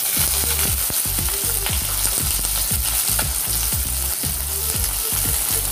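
Chopped onion hits hot white oil in a kadai and fries with a loud, dense, steady sizzle, while a spoon scrapes and stirs through it in repeated low knocks.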